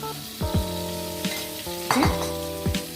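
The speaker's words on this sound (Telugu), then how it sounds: "అదే ఆయిల్లో మనం కట్ చేసి పెట్టుకున్న ఆనియన్ ముక్కలు వేసేసుకొని బాగా ట్రాన్స్పరెంట్గా ఫ్రై చేసుకుందాం" Onion pieces frying in oil for an ivy gourd masala curry, a steady close sizzle with stirring knocks and background music tones running through, no talking.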